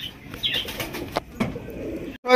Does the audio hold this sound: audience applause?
no